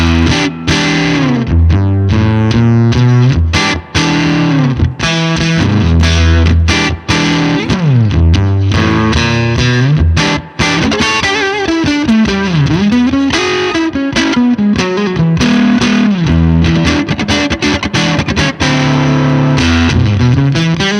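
An electric guitar runs through a Fender '59 Bassman tube amp taken direct out, giving loud, continuous, driven chords and melodic lines with dense sustain across roughly twenty seconds and only brief pauses.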